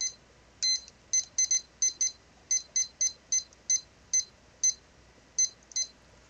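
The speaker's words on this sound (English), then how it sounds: "I should turn on the timer, which I didn't, so I'm gonna set it at 13" A digital timer being set to 13 minutes gives a quick run of about seventeen short, bright beeps. They come singly and in tight pairs, close and clear, with no talking.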